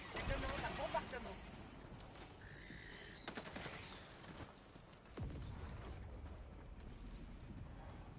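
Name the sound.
requested bombardment in video game Helldivers 2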